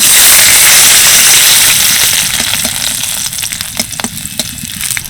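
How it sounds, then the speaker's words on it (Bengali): Garlic sizzles loudly in hot oil, a bright crackling hiss that gradually settles into softer pops and spatters. "এবার তেলের মধ্যে দিয়ে দিচ্ছি কয়েক কোয়া রসুন"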